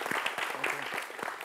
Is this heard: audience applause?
yes